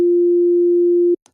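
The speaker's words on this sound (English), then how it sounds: "And that's the sine wave." A pure sine wave tone from a software synthesizer oscillator, a single steady clean pitch held for just over a second before cutting off abruptly, loud and alone.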